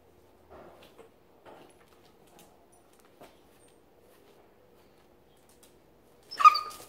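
A dog gives a short, high whimpering yelp while being combed during a dry bath, preceded by faint rustles and brushing sounds in an otherwise quiet room.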